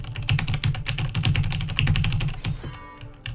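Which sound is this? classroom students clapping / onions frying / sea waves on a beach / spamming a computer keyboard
spamming a computer keyboard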